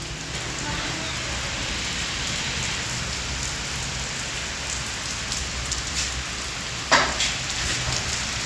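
Heavy rain pours steadily on a hard surface, a constant close hiss, with one brief knock or thump near the end.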